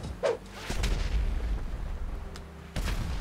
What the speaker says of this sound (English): Do not airstrike me, please.